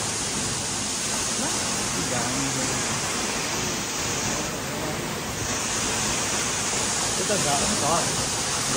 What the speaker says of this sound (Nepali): झरनामा आइयो है हामी